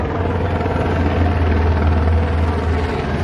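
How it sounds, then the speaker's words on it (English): A helicopter hovers above the Woodward Dream Cruise car show, its loud, steady rotor thrum and engine drone filling the scene continuously. "They got a helicopter up there."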